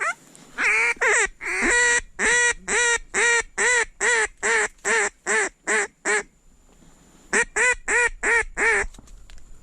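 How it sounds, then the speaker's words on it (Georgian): Ducks call during a hunt, a loud, close run of rhythmic honking quacks in quick, regular bursts, then a short pause and another burst of calls. "იხვია ეგეც."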